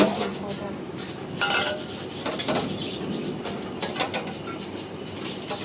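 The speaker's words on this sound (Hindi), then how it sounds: "अभी फ़िलहाल मैं यहीं पे बर्तन धो ले रही हूँ" Dishes being washed by hand at a home sink, pots and steel utensils clattering and clinking loudly and continuously up close, with no one speaking.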